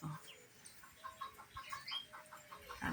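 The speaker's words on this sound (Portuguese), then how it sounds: "Ali no fundo tem galinha." Chickens cluck in the background outdoors, a string of short, rhythmic calls under a quiet natural setting, with a few faint extra sounds near the end.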